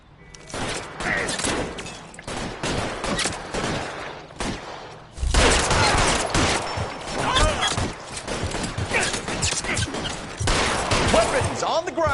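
Heavy gunfire from a shootout in the video game L.A. Noire rattles nearly without pause, with dense bursts of shots and loud impacts over a busy game soundscape and intermittent voices.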